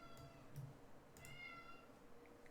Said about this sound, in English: Hear my cat complaining.